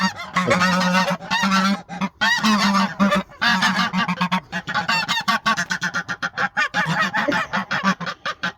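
A flock of Çorum geese honks loudly and continuously, many overlapping calls close by, growing choppier toward the end.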